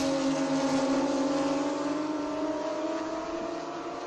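A 4-liter twin-turbo V8 race car at Watkins Glen gives a steady, loud, throaty exhaust drone that holds for the whole stretch and fades slightly toward the end, with no talk.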